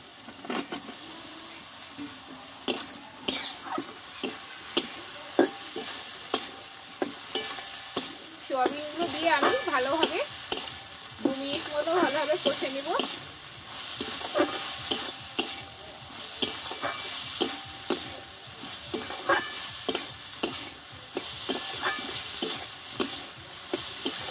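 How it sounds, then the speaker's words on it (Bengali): Soybean chunks tossed into a hot frying pan with cauliflower stalks, followed by steady stirring, a continuous sizzle and a run of scraping, clinking spatula strokes close up throughout, with no talk. "এবার এতে আমি কষে রাখা সোয়াবিনগুলোকে দিয়ে দেবো"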